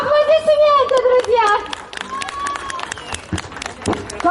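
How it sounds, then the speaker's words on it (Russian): An audience at an outdoor holiday stage show claps in scattered, uneven bursts while an animated announcer keeps talking over the clapping. "Аплодисменты!"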